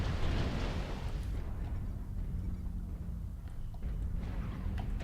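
Missile strikes land in MechWarrior Online on a 75-ton MAD-3R Marauder mech, producing a continuous heavy rumble of overlapping explosions. The booms are loud and close, with bursts piling on top of one another.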